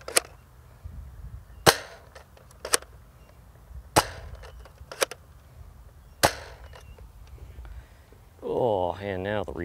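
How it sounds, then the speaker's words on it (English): A Nerf N-Strike Elite Dual-Strike blaster fires darts in stock form: five sharp, close pops spaced over several seconds, and a voice speaks near the end. "let's fire off all these shots. So from the Elite barrels first. Swap it over to the Megas."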